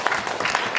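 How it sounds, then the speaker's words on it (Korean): A church congregation applauding for the children during a Sunday service, a brief burst of dense, steady clapping from many hands. "우리 아이들을 위해서 박수를 한번 쳐주세요."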